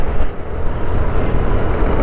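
A car and a truck pass on a mountain road through Dau toward Batu, Malang, heard as a steady, fairly loud broadband traffic rumble with no clear distinct pass-by peaks.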